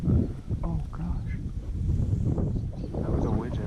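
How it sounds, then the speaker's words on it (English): A wigeon duck calls during an early teal hunt on a windy Nebraska day, brief quacking and whistly notes heard among wind and mixed waterfowl sounds, with faint human voices nearby. "That was a widgeon."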